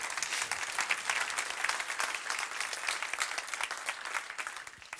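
An audience gives a round of applause, a faint, dense, steady patter of many hands clapping from start to finish with no talk over it.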